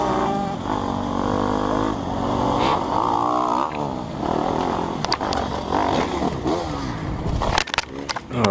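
A dirt bike engine revs loudly on a riding track, the buzzing motor rising and falling continuously, with people talking and reacting over it.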